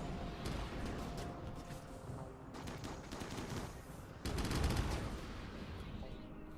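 Rifle gunfire from a new weapon in the video game Rimworld, rapid overlapping shots in steady bursts with a louder volley near the end, over a constant game backdrop.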